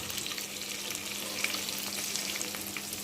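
Turmeric and chili powder spices sizzling and frying in oil in a pan while cooking potol (pointed gourd) curry, a steady close crackling hiss with no talk.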